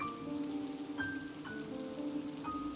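Steady rain falling on a surface, a continuous soft hiss with scattered drops, heard alone without any voices.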